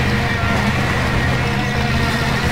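A Range Rover's engine in the SpinTires video game drones with a steady, loud low rumble while the vehicle pushes through extreme mud.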